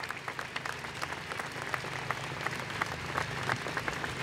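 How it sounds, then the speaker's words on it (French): Steady applause from a crowd at an outdoor anti-racism rally in Paris honoring George Floyd, continuous dense clapping throughout with faint crowd murmur beneath. "On applaudit très fort ce témoignage."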